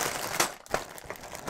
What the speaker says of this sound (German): fangen wir an mit den Tüten sortieren